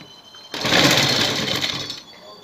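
A sewing machine stitches along a neckline with lace attached, running in one steady, loud burst of about a second and a half between quieter moments.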